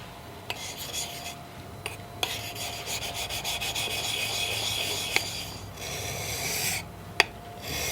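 A plane iron's back rubbed in strokes across a 1000-grit sharpening stone, close and fairly quiet, with a gritty scraping rhythm broken by a few short pauses and light clicks.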